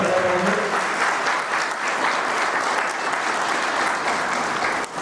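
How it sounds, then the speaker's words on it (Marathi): An audience at a book-release gathering breaks into sustained, dense clapping that stays loud and even for several seconds before tapering slightly at the end. "टाळ्या जोरदार मिळाल्या"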